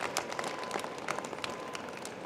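Audience at the 2023 Howard University commencement applauding steadily, a dense patter of many hands clapping at moderate distance with no voices standing out.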